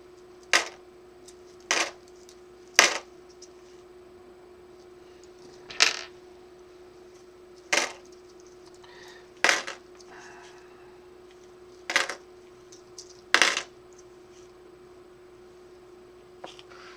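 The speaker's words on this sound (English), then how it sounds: "I like to throw coins too." Pennies being thrown during coin sorting land as eight sharp, separate metallic clinks and rattles, spaced a second or two apart, against a quiet room hum.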